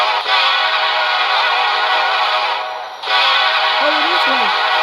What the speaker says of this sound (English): we got another train coming. I think it's gonna blow the horn.